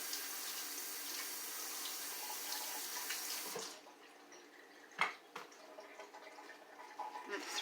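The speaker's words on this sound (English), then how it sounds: "I'm going to give my meat a quick rinse." Kitchen tap running steadily into a sink while pork ribs are rinsed, a loud hiss of water that stops partway through, followed by a few clunks and soft drips.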